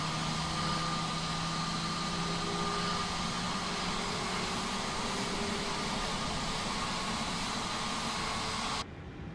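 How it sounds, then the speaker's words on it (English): Airbus A320 engine in a flight simulator game, a steady low hum with a faint whine, continuous and even, then cutting down near the end, no talking. "That low hum there of the engine."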